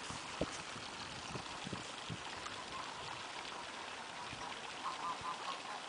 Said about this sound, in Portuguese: Barulho, pato.